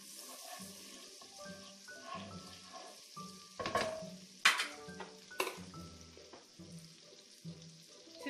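Drained meat pieces seared in a frying pan for a pumpkin stew sizzle softly and continuously, with clanks and scrapes of utensils against the pan and a few sharp louder clatters.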